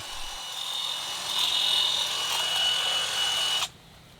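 Milwaukee M12 cordless hedge trimmer cutting back an overgrown hedge beside a house, a steady close buzzing whir that runs for a few seconds and then cuts off abruptly.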